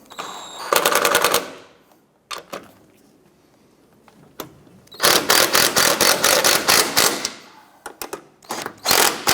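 Impact gun snugging down the upper strut nuts on a 2006-2013 Chevrolet Impala, three loud rattling bursts of hammering separated by pauses, up close with no talking.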